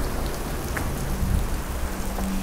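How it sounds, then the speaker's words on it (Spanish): Heavy rain pours down steadily at an old hacienda, a dense, constant hiss of drops on surfaces close by, with no voices and nothing breaking through the downpour. "Sí, sigue lloviendo mucho."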